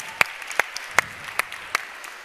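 A handful of separate, fairly quiet claps at an indoor event welcoming a DJ, spaced irregularly with no fuller round of applause building up.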